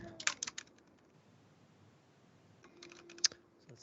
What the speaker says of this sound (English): as I'm kind of typing here